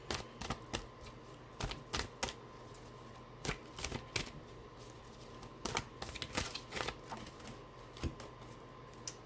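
Tarot deck shuffled and cards drawn during a horoscope reading, repeated crisp riffling bursts and sharp card snaps spaced irregularly throughout, close and clear with no talking.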